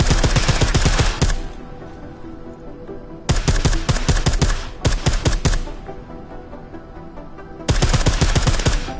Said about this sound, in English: I like how silencers reduce sound, but the trade-off is less stopping power, less damage per hit.